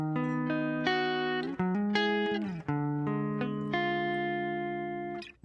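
Rhythm guitar plays simple sustained chords, each change clearly separated, with a bright distorted electric tone and a few brief dips between strums, moderately quiet and heard alone.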